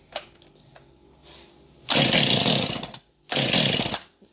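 A ported Husqvarna 45 chainsaw is pulled over on choke in New Zealand, with a few small clicks and a faint pull before two loud sputtering bursts of engine firing, each about a second long, close by.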